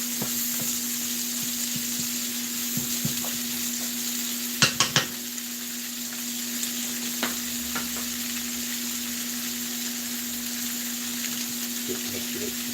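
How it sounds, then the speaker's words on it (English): Three diced onions sautéing in grease, a steady soft sizzle with a constant hum behind it and a few sharp clinks of a utensil against the pot, no one talking. "I diced up 3 onions. I'm going to let that saute a little bit in that grease."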